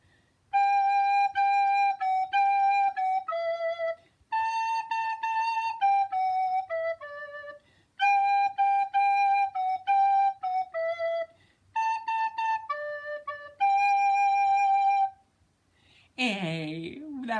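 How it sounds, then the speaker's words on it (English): A soprano recorder plays a short melody of clear, bright, steady notes in phrased groups with brief pauses, loud and close, ending with a short burst of voice. "And now I'm going to play Mr. Greene's normal song"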